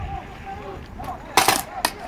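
A few sharp paintball gun shots crack out in quick succession near the end, with faint voices talking in the background.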